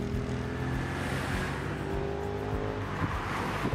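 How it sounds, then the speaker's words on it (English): An ERF lift truck pushing an old Western National Bristol VR bus to the workshop: a steady loud diesel drone with a low rumble, close and continuous, with a few knocks. "The powerful ERFC lift-it truck is pushing the old Western National Bristol VRFD V818V on its final journey to the workshop."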